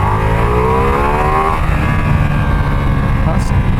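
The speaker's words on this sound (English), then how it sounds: "What if we slow down a bit and accelerate?" A Ducati Multistrada V4S motorcycle on an Alpine road in Switzerland accelerates, its engine note rising steadily in pitch as revs climb, loud and close with continuous wind rush.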